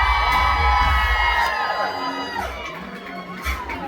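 A concert crowd at the City Winery in Boston screams and cheers loudly and continuously at a show, with whoops and shouting rising over sustained stage music.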